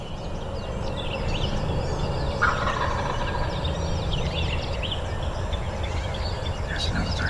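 A wild turkey gobbles out in the woods as a faint burst that is hard to make out under steady low rumbling and other background noise.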